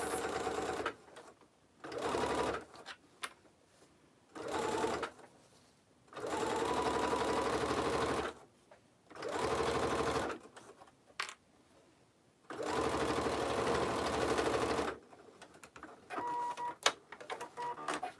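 A sewing machine bastes a seam on a belt bag in loud, close bursts of rapid stitching, with about six runs of several seconds each separated by short pauses. Faint handling sounds fill the gaps.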